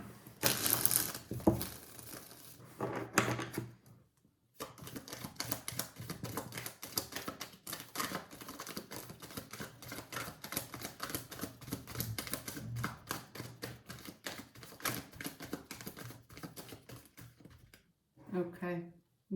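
Tarot cards shuffled by hand in rapid, crisp riffling and flicking bursts that run almost continuously at close range, pausing briefly near the start and again near the end, with no talking over them.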